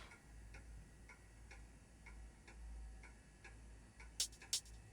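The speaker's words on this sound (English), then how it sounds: "There's an old pendulum clock on the wall." An old pendulum clock on a wall in a video game ticks steadily and faintly over a low background hum, ending with two sharper, louder clicks.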